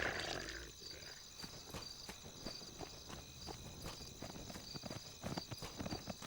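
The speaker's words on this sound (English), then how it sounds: "Just sounds like hooves for some reason." Hooves clip-clop at a steady walking pace in a Lord of the Rings video game, The Fellowship of the Ring, with evenly spaced hoof strikes over a faint high insect-like drone, alone and without talk.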